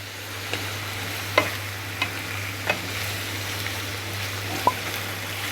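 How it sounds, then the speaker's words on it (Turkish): Vegetables and fish turned together in a pan over a soft, steady sizzle, with about half a dozen light, evenly spaced taps of the spatula against the pan. "Bir iki tur da böyle çevirelim balıkla beraber"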